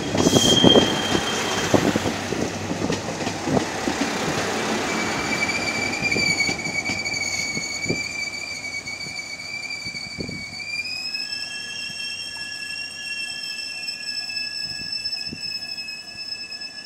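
A Nanpu limited express train rumbles through Konzōji Station at speed, wheels clattering, then high-pitched squealing of the rails rings out and lingers as it passes.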